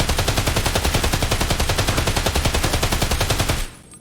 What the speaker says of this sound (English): Like I'll use the MDR over here.